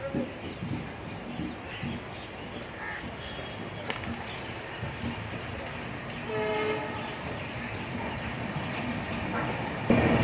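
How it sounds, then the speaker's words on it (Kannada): A Janashatabdi superfast express train rumbles along steadily departing Yesvantpur station, with a brief horn blast, while crows caw faintly in the background. "ಟೈಮ್ ಇವಾಗ ಕರೆಕ್ಟಾಗಿ 6:13 ಓಡ್ತಾ ಇದೆ ನಮ್ಮ ಟ್ರೈನ್ ಇಲ್ಲಿಂದ"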